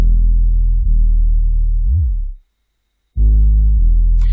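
A deep synth bass note drones, bends up and back down in a smooth glide, cuts out briefly, then returns as a sustained low tone.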